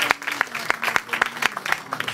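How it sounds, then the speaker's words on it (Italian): A small audience applauds after a piano performance of Christmas music, with sparse, distinct claps in an uneven rhythm, moderately close and heard alone. "Applausi."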